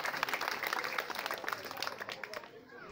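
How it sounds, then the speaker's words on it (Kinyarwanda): Applause from guests at a traditional Rwandan wedding, a dense burst of many hands clapping that fades out toward the end, with voices mixed in. "mumuha amashyi menshi cyane"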